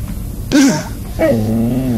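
A dog in a paranormal indie horror game lets out a short growl followed by a drawn-out whimpering whine, two close, loud vocal bursts separated by a brief pause.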